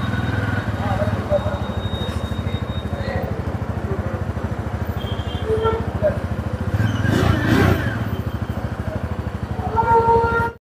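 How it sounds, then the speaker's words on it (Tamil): TVS Apache RTR 160 4V racing motorcycle engine running steadily nearby with a throbbing low rumble and occasional revs, while people talk in the background. "லேட்டஸ்ட்டாக லான்ச் ஆகிருக்கிற ஒரு ஹை ஸ்பீடு ரேசிங் பைக் இது"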